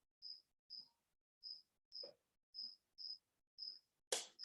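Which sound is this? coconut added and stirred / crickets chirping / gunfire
crickets chirping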